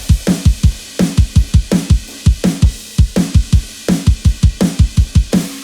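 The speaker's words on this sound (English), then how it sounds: "So kick, snare, and overhead sound like this with plugins." A processed drum mix of kick, snare and overhead cymbals from a song pounds out a steady, loud rock pattern with deep thuds, snappy hits and a bright cymbal wash riding on top, with no voices.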